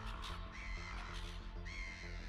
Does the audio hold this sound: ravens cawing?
yes